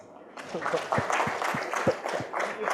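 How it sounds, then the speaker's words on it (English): Audience at a product leaders panel session clapping, a thin scattering of separate claps in an uneven rhythm, with talking over it. "the volume of clapping is going down."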